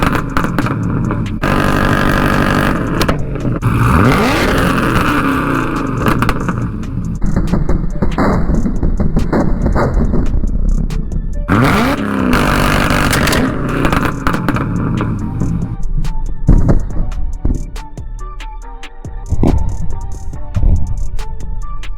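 Chevrolet Camaro ZL1 engine revving at a held 3300 RPM, a loud, steady rumble with surging pulls and a few sharp mechanical scrapes, heard close and without talk.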